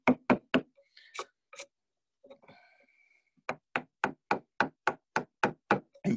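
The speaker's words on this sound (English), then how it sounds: "just take the bulk out with the V gouge. And then just finish off this chip with a chisel." Wood carving with a V gouge and a chisel, taking out the bulk and then finishing a chip: a run of sharp, close knocking taps in quick bursts, a short quieter pause with faint scraping, then a steady series of about a dozen evenly spaced strikes.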